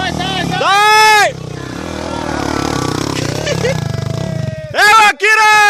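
A motorcycle engine at a hill-climb type event revs in loud, rising bursts close by, with a sustained lower drone between them and people shouting over it.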